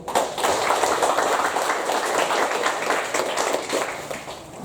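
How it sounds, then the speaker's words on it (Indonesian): An audience at an Indonesian book launch event claps together, a moderate, steady patter of hands lasting several seconds before fading out. "Kita tepuk tangan dulu."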